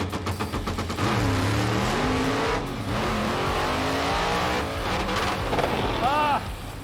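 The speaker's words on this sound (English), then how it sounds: "Hopefully I can remember not to use the clutch and not granny shift, hit my shift points, and go much faster down this drag strip." A drag car launches hard down a drag strip with a manual clutch, engine revving up through rising gear shifts, loud and close, with voices talking over parts of the run.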